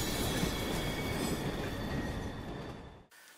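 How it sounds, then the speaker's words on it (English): A subway train in a movie scene: a loud, continuous rumble with faint wheel squeal that carries steadily for about three seconds and then cuts off abruptly, with no talking. "where the sounds of the train throw off Daredevil's sonar"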